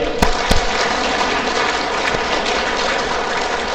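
Applause from a church congregation fills the space as a steady, dense wash of clapping. A few sharper claps stand out near the start.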